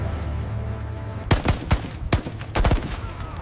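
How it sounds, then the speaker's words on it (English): After a quiet lull, a machine gun fires in a WWII desert strategy game set in 1942: three short, sharp bursts of rapid shots, close and loud. "Enemy machine gun positions, open fire!"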